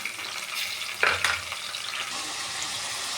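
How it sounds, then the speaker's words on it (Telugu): Green chillies fry in hot oil with a steady, close sizzle, and a brief louder stir-like crackle rises partway through. "పచ్చిమిర్చి ఆయిల్లో ఫ్రై చేసుకుంది"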